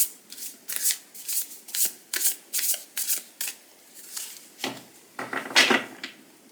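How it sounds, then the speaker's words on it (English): A deck of slightly oversized cards, such as a tarot or oracle deck, is shuffled by hand in a series of quick, crisp riffling bursts. They come in an irregular rhythm, close and clear, with no talking over them. "shuffle it up."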